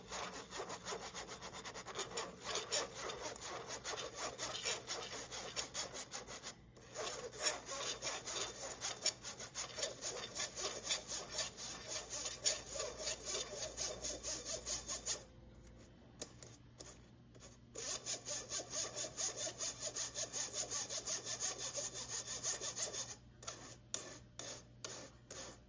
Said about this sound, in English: When you're sifting, you can push the ingredients through using a rubber spatula or a spoon